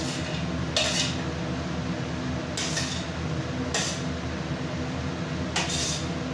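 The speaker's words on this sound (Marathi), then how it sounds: "त्याच कढाईमध्ये मी खोबरं भाजून घेते." Grated coconut roasting in a hot kadhai: a steady close hiss and scrape, with four brief metallic clinks as a spatula or spoon hits the pan. No one speaks.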